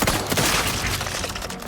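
Gunfire in The Outer Worlds 2 video game, a dense burst of rapid loud shots and cracks filling the short moment without talking.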